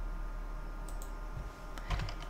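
A few soft, close clicks of a computer keyboard and mouse while shift-clicking to select a range of cells in an Excel spreadsheet, bunched near the end over a quiet background hum.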